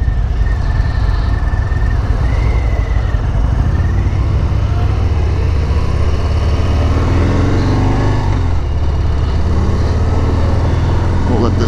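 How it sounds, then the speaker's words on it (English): A 2019 Harley-Davidson FXDR motorcycle engine idles while warming up, a loud, steady, low rumbling throb that holds evenly throughout, recorded close with no change in pace. "We'll let this bike warm up a little bit before we jam into it."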